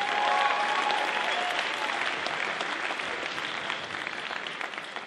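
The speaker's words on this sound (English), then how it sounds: "round of applause for the judging panel" A crowd claps for the judging panel at a high school Gong Show talent event, loud sustained applause that starts strong and slowly tapers over about five seconds.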